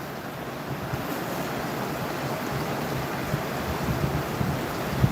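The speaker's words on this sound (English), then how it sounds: "this is the San Juan River, Pagosa Springs. They actually had a water break last night as well. But look at that. Look at how intense that is." The flooded San Juan River at Pagosa Springs rushes in a loud, steady roar of churning water, continuous and close, with light wind buffeting the microphone.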